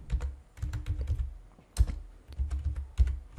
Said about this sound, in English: Just hit enter on your computer keyboard